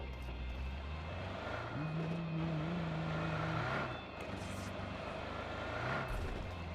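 A vehicle in PUBG Mobile on the Erangel map: a steady engine drone with a rising, wavering whine in the middle, carrying on throughout at moderate level.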